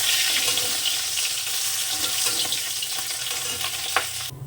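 Meat fries in hot oil in a pan with a steady, dense sizzle that runs unbroken and fairly loud, with a faint clink near the end.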